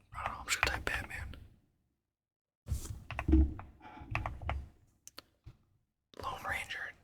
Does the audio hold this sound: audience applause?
no